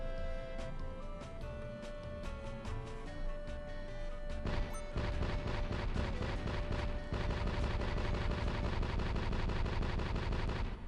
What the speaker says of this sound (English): Now we can blast this rock to smithereens